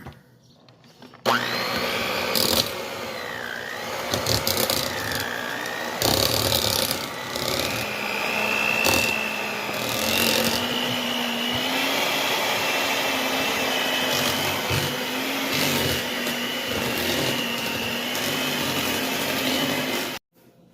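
An electric mixer creams cream cheese and butter together in a bowl for homemade fig cookies: a loud, close, continuous motor whine that starts after a moment of quiet and keeps a steady pitch, with brief shifts as the beaters move.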